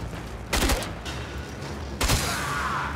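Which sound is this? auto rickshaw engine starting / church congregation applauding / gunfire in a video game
gunfire in a video game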